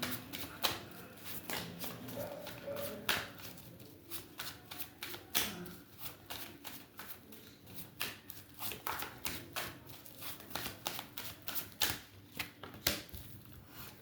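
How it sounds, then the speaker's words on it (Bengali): A deck of tarot-style reading cards is handled and shuffled, giving repeated quick riffling bursts and soft taps that come in an uneven rhythm, close and fairly quiet, with no talking. "ওকে, আমি সবকটা কার্ড আমি নিয়ে নিচ্ছি"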